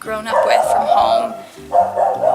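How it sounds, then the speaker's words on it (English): A pet dog named Alfie barks repeatedly in loud, close bursts in two clusters, heard under a person talking at home. "If you can hear that barking, that's my dog"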